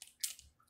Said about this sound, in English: you really hear the crunch